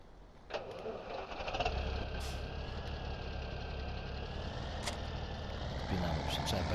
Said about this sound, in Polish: Tutaj nie wyłączyliśmy silnika.